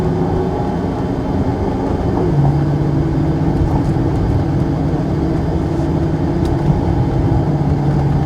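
Steady loud whooshing drone of the engine cooling fans on a Ferrari FF GTC, running continuously with a low hum underneath and no speech.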